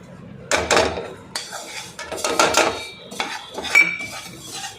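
Fenugreek seeds and asafoetida being stirred and roasted in a pan, with a spoon scraping and clattering against the metal in irregular bursts, close and fairly loud with no voices.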